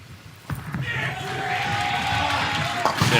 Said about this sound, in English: cheering for their defending champion right to the last